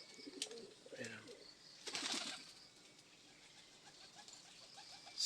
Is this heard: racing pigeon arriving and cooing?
yes